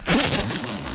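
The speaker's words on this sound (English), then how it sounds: "Big, thick zipper" A big, thick zipper drawn open on a canvas wall tent, one loud, close, continuous rasping pull lasting about a second.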